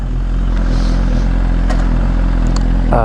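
A cold motorcycle engine running steadily, a loud close low rumble with clattering mechanical ticks and a brief scrape near the end.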